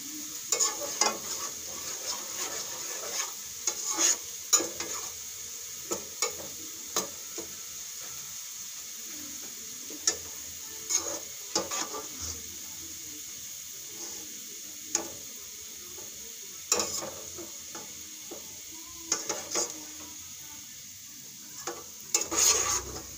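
Onions frying in a pan until golden for a fish curry, a faint steady sizzle with frequent sharp clicks and scrapes of a stirring spoon throughout.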